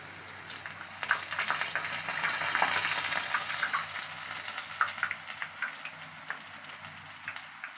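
Small swirls of jangiri batter frying in hot oil, a soft steady sizzle with fine crackling bubbles that swells and eases, fairly quiet and close, no voices.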